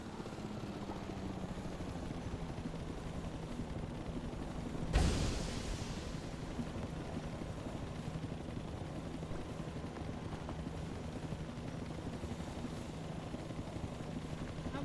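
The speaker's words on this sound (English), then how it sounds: "I'm coming to the helicopter!" A helicopter in the video game PEAK whirs with a steady, moderately loud rotor drone throughout, and a single sharp burst of noise breaks in early on.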